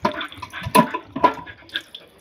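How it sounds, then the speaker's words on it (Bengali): Scrubbed puja utensils are rinsed under water, with close splashing and a couple of sharp clinks of metal ware in short, uneven bursts. "ধুয়ে নিলেই হয়ে যাবে, সব ঘষা মাজা হয়ে গেছে।"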